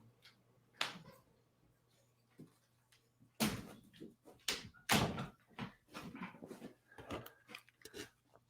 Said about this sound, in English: My dog is pawing at the door